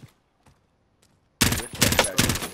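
Call of Duty gunfire begins after a quiet stretch with faint distant pops, then erupts into loud, rapid automatic bursts that continue to the end.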